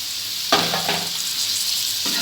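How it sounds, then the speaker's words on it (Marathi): A spoon stirs cauliflower sabzi with spices in a hot pan, scraping and sizzling steadily over a couple of seconds with a clear burst of frying hiss. "छान मिक्स करून घ्यायचं आहे आपल्याला"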